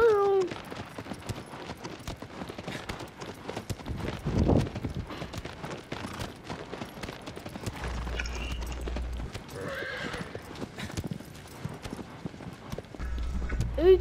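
Horse hooves clip-clopping at speed in a video game, a steady rapid gallop with occasional whinnies, mixed with game sounds and someone talking over it.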